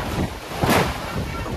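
A storm near Moradabad with heavy rain drives strong wind gusts against the microphone, making a rough, rushing roar that swells briefly in the middle of the short burst.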